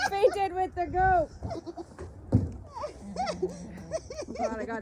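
A fainting goat on a farm bleats in several wavering cries close by, mixed with people talking nearby.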